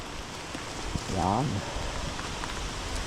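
Steady rain hisses down on an outdoor fishing spot with a frog lure in use, soft and continuous, while a nearby voice speaks briefly.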